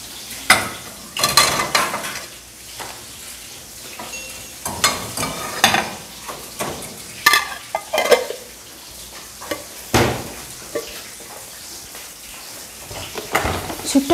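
Tongkol fish frying in a home kitchen pan, a steady sizzle broken by scraping stirs and clinks of utensils against the pan, with occasional voices nearby.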